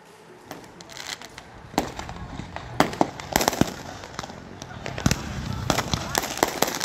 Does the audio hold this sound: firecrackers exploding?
yes